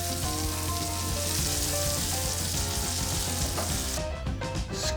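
Salmon fillet frying in butter in a pan, a dense, loud continuous sizzle that abruptly thins out near the end, leaving a softer crackle with a few light scraping touches.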